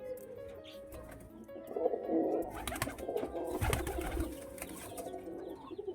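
Pigeons cooing close by, soft repeated throaty coos and rumbling calls that swell in the middle, with light rustling and faint background noise.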